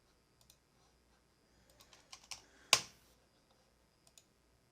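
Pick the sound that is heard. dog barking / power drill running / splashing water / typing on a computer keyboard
typing on a computer keyboard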